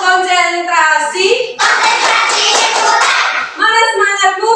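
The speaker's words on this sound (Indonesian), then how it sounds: "Ayo anak-anak, tepuk konsentrasi." Fourth-grade children in an Indonesian classroom perform a tepuk konsentrasi clapping chant, with a loud stretch of rapid group clapping framed by chanted voices before and after.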